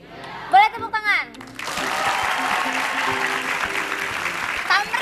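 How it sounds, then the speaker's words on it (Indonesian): Studio audience applause on an Indonesian talk show, starting after a second or so of loud talk and then running as a sustained, fairly close crowd clapping to the end. "Boleh tepuk tangan."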